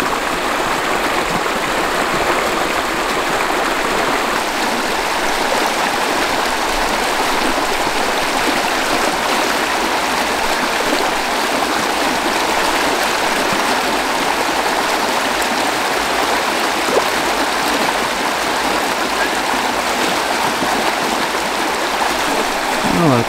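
A river stream flowing where trout are fished, a constant close rushing and babbling of water, loud and even throughout with faint speech-like murmurs mixed in.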